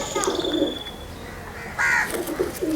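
Soft pigeon coos come in short bursts, close by, with a brief flutter or rustle in between.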